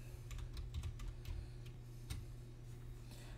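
Light, soft keystrokes on a computer keyboard tap out a short name in an irregular patter, faint and close over a steady low hum.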